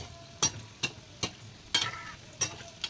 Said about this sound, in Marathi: हळूहळू हलवायचे ते मोदक आणि पॅटीस सर्व भाजून भाजण्यासाठी असे हळूहळू हलवत भाजायचे